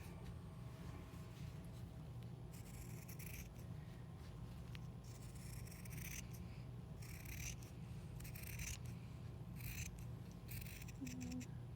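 Scissors snip through fabric being cut out for a homemade face mask, a series of close, crisp rasping cuts in bursts over a steady low room hum, with no talking.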